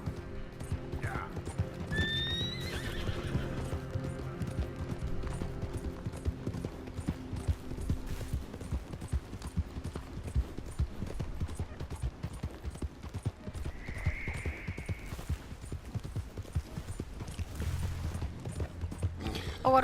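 Horse hooves clip-clop steadily through a Red Dead Redemption 2 game scene, with a horse neighing and whinnying early and again midway, over continuous game ambience and scattered distant gunfire.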